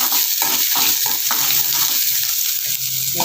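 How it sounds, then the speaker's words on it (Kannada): Brinjal and masala for a Karnataka-style huli fry in a hot pan, giving a steady, close sizzle with intermittent stirring scrapes throughout. "ನಂತರ ಇದು ಸ್ವಲ್ಪ ಫ್ರೈ ಆಗಬೇಕು. ಈ ಥರ"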